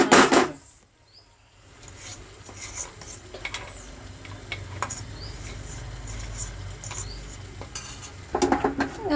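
A spoon stirs jaggery into bitter gourd pickle in a pan, with repeated scraping clinks against the metal and a soft background sizzle.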